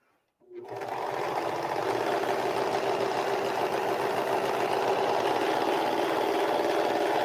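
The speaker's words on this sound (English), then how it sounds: "So I'm going to serge this edge." A serger sewing machine starts up abruptly and runs in a fast, steady whirring stitch along the edge of an apron, close and continuous.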